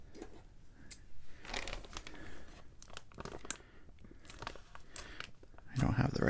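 Plastic packaging of a beginner crochet kit is cut and torn open with scissors, giving crinkling, tearing and snipping bursts at close range, getting louder near the end.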